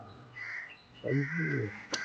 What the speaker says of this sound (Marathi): इकडे निरनिराळी पक्षी तुम्हाला बघायला मिळतात